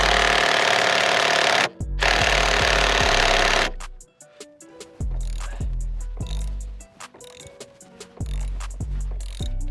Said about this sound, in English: I'm gonna put it on an impact gun to make it a little bit easier to break the tension